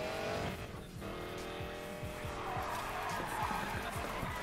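Car drifting through a long corner in the racing video game Need For Speed Payback: a loud revving engine with repeated gear shifts under sustained tire squeal and skidding, continuous throughout.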